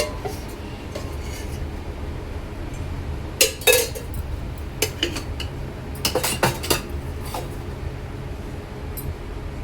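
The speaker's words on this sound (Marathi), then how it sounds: "यामध्ये मी 1-2 पळ्या तेल टाकणार आहे।" A metal ladle adds one or two measures of oil to a hot kadhai, with bursts of metallic clinks and clanks in the middle over a low background rumble.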